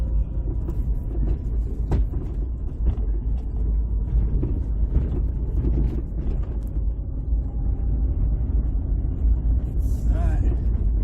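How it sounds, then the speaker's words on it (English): Steady low electronic hum inside a 2006 Ford Escape during a road test, blended with continuous road and cabin rumble, with a few faint clicks and knocks over the drive. "All that humming noise you hear"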